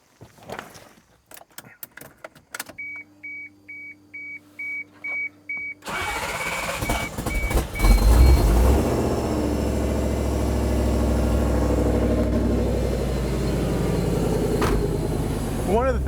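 A project car fitted with a lithium battery cranks over briefly, fires and settles into a steady, loud idle. Faint clicks and jingling are heard before the start.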